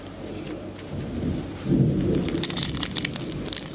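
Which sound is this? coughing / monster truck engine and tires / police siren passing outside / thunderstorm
thunderstorm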